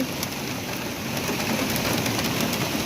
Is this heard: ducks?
no